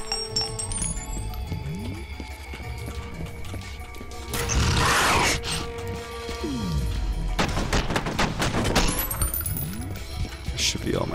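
Gunfire in the shooter game F.E.A.R., bursts of shots and impacts cracking through a busy, loud mix of game effects, with a dense burst near the middle and rapid repeated shots later.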